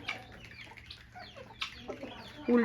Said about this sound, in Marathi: कोंबडी आली बघा चराला.